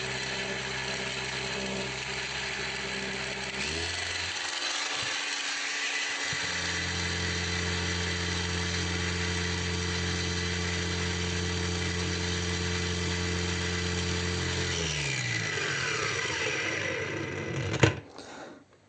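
A Heimerdinger LB183 cordless angle grinder whines continuously at close range, a steady high-pitched motor tone that shifts speed partway through, then winds down at the end.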